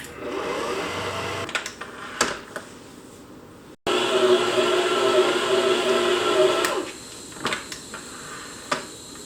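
An inexpensive Akuma stand mixer kneads sourdough bread dough with a steady mechanical whir and hum that cuts out briefly and then resumes, with occasional light knocks.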